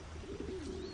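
Pigeons cooing softly in a low, wavering burst, fairly close, with faint high chirps and street ambience around them and no talk.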